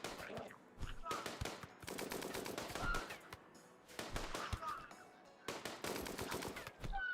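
Rapid bursts of automatic gunfire in the colony-sim game Rimworld during a raid, several loud volleys separated by short pauses, with game sound effects between them.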